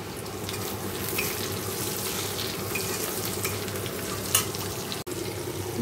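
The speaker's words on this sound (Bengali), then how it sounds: "এদিকে দেখো গোটা গরম মশলা ফোড়ন দিয়ে পেঁয়াজ ভাজছি" Chopped onions fry with whole garam masala in a pan, giving a steady, close sizzle and crackle throughout, with a small clink near the end and no voices.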